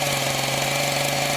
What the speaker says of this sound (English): We're looking for a chainsaw.